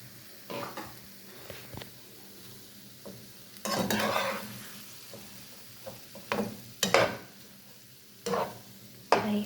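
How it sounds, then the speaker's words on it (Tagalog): Shrimp and potatoes are stirred in a frying pan for a shrimp biryani, with a steady low sizzle broken by several loud scraping strokes of a utensil against the pan. "ihalo na natin yung robian tsaka"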